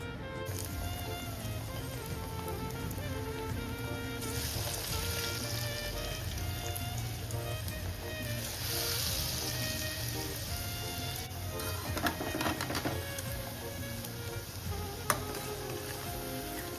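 Vazhakkai and onion bajji fritters fry in hot oil over a medium flame, giving a continuous close sizzle and bubbling with occasional clinks and stirring sounds.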